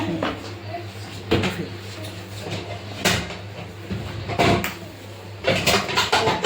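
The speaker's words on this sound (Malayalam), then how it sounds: "കുക്കറിന്റെ അടപ്പ് കാണുന്നില്ല, തപ്പാൻ പോയി" Someone rummages through kitchen cupboards hunting for a pressure cooker lid. Several sharp knocks and clattering bangs of doors and cookware come at uneven intervals over a steady background murmur.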